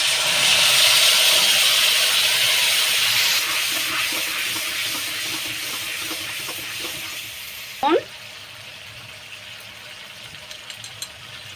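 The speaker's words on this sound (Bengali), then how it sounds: "তেলটা গরম হয়ে গিয়েছে এইবার বেটে রাখা টমেটো শুকনো লঙ্কা সেদ্ধ আর রসুন সেদ্ধ দিয়ে ভালো করে একটু নেড়ে নেব" Ground tomato, dried chilli and garlic are stirred in hot oil for a sauce, giving a loud close frying hiss that slowly fades, with scraping stirs and a short squeak near the end.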